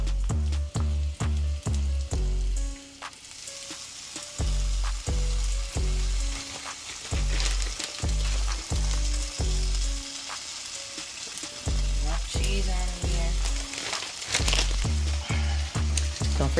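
A birria taco with meat and cheese fries in a hot pan, crisping on the underside. The loud oily sizzle runs steadily throughout, broken by rapid rhythmic bursts and brief quieter gaps, with no voices.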